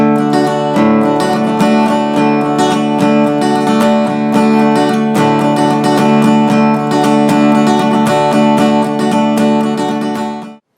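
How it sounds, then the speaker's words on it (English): Acoustic guitar playing the Jonathan Edwards song Sunshine, alternating bass notes with brighter high-string strums in a steady rhythmic pattern, loud and close with no voice, ending in a quick fade. "I'm kind of throwing in bass notes and then high notes."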